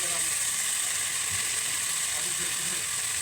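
Meat curry with green chillies sautéing in a pan, giving a constant bright hiss of sizzling that stays even throughout, with a few faint scraping sounds under it.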